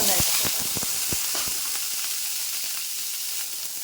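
Small onions sautéing in hot oil give a steady, close sizzle with scattered crackling pops. The hiss stays alone and continuous, easing slightly toward the end.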